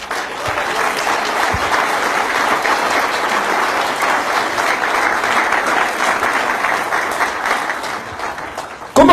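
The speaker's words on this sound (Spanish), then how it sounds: "Denle un aplauso al Señor." A church congregation applauds for God at a Spanish-language religious service, a dense, steady wave of clapping from a large crowd that holds for several seconds and then fades.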